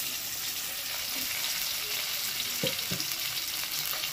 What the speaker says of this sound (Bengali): আবার পটলটাকে হালকা করে ভেজে নেব, এই তেলের মধ্যে ভেজে নেব